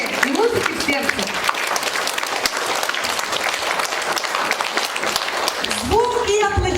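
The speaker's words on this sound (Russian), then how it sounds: "Звуки и аплодисменты в честь Светланы Михайловны Смирновой" Warm concert audience applause fills the hall for several seconds, steady and full, while a voice speaks over it at the start and again near the end.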